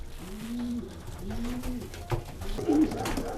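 Pigeons in a breeding loft coo from their nest boxes, several soft repeated low coos close by, with faint background shuffling.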